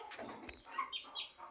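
Small black chicks, young roosters and hens, give a few soft clucks and chirps, faint and close, with a brief rustle of movement among them.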